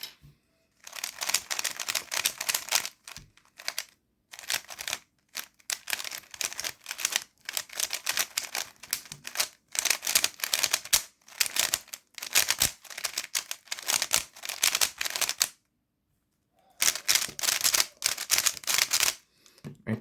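Quick clicking and clacking as a Yuxin Little Magic V2 M speed cube in glossy plastic is turned, stiff straight from the box; dense bursts of close turning broken by short pauses, with no talk.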